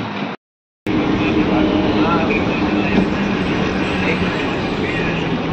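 A train rumbles steadily at a busy railway station, giving a loud, continuous broadband roar after a brief dropout near the start.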